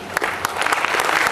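A seated audience at an RCM achievers' award event claps in a brief, dense burst of applause, steady and fairly loud with individual hand claps standing out.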